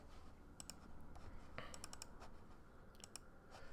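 A few small, faint computer mouse clicks come while placing a resistor in Tinkercad, scattered sharp ticks over quiet background with no speech.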